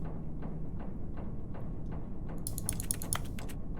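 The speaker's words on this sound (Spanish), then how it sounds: "Lo del sonido de teclado creo que es algo que se ha rayado" Keyboard typing in the video game The Stanley Parable, a run of evenly spaced, crisp key taps close up, then a brief flurry of quicker, brighter clicks near the end.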